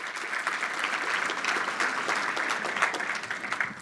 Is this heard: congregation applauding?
yes